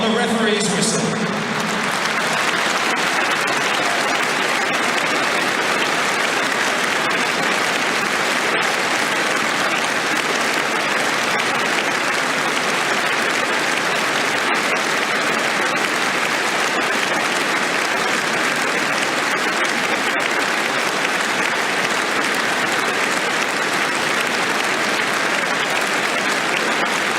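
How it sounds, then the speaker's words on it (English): A stadium crowd at an England versus Ukraine Euro 2024 qualifier holds a long, steady round of tribute applause, loud and dense throughout, a broad wash of clapping from thousands of spectators. "We'll now celebrate his life with a period of applause that will end on the referee's whistle."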